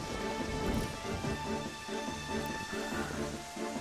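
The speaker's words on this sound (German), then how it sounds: "Oh, es regnet. Cool. Ja, es gibt Wetter hier." Rain falling in the video game The Legend of Zelda: Twilight Princess, a soft steady patter heard faintly beneath sustained tonal game sounds.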